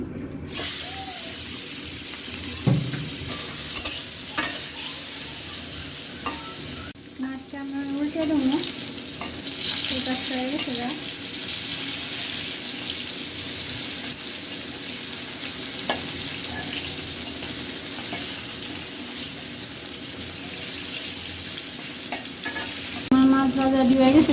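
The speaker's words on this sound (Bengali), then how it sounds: "তেলটা গরম হয়ে গেছে মাছটি দিয়ে দেবো" Fish sizzles and spatters in hot oil with a constant loud hiss, and occasional clinks and stirring noises punctuate the frying.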